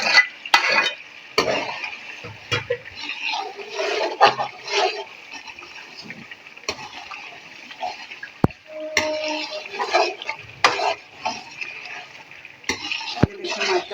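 Chicken and pumpkin stir-fried in a karahi: a spoon scrapes and clatters against the pan in irregular bursts, with a light sizzle between strokes and a few sharp metallic knocks.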